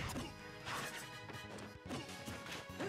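Meta Knight's ledge-grab sound in Super Smash Bros. for Wii U (Smash 4), a quiet crashing smack amid dense game audio and music during a competitive match.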